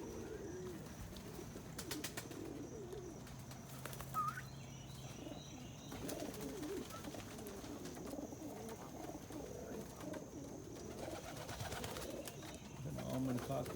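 Pigeons in a loft, including small mookie hens and cockbirds, coo softly at a distance over steady background noise, with a few brief chirps scattered through.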